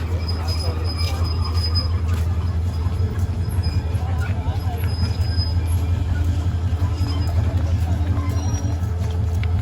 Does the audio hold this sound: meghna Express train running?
yes